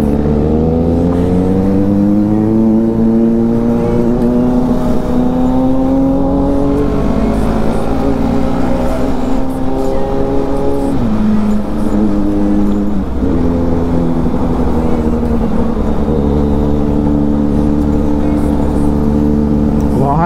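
Kawasaki Z900 motorcycle engine running and revving while riding, a loud continuous droning exhaust note with rising and falling pitch, a person talking over it.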